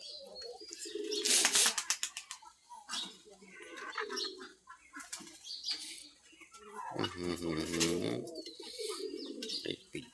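Pigeons on a small farm with ducks and chickens coo in low, throaty bursts, one with a cold making rough cough-like sounds, alongside some chirps and a raspy call; a person talks intermittently nearby.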